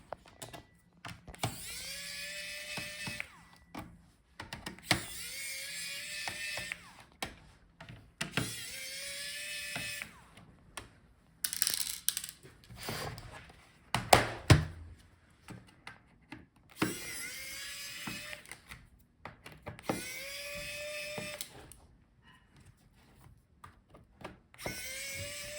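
Screws being driven out of the bottom case of an HP Omen 15 laptop with a small powered screwdriver, several separate whirring bursts of a few seconds each with brief gaps and light clicks between, close and moderately quiet.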